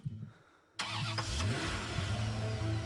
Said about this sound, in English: After finding the exit, you get in your car, turn on the ignition,